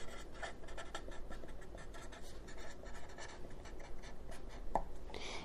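Pen or pencil scratching steadily on paper, handwriting in quick strokes, close and faint, continuing without pause.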